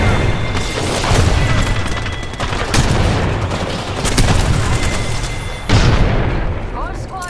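Grenade blasts in the Apex Legends battle royale game, loud booming explosions and gunfire crackle rolling continuously, with a few sharp bursts standing out, a player talking over the chaos.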